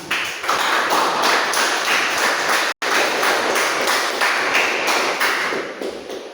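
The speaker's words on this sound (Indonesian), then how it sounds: "boleh tepuk tangan" An audience applauding during a group class presentation, a steady, dense patter of many hands clapping together that continues evenly throughout, with one brief cut.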